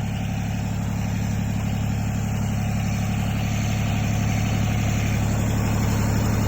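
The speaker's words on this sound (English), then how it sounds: "we're having to leave the tractor running right now because the battery keeps dying" A tractor engine left idling because its battery keeps dying, a steady low diesel rumble running close and unbroken throughout with no voices.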